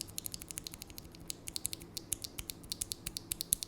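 Steady rapid typing on an AKKO 3068S mechanical keyboard fitted with Gel Pink linear switches, producing a close, crisp stream of clicky keystrokes at an even pace with no talking.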